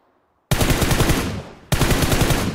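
Rapid automatic gunfire in a mobile battle-royale shooter game, two loud sustained bursts of dense shots, close and alone.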